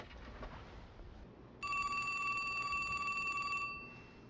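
A telephone bell rings in one bright, sustained burst of about two seconds, moderately loud above a quiet background, with no talking.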